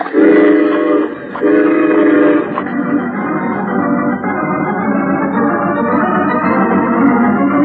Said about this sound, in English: Let's be sure we're on that train when it pulls up.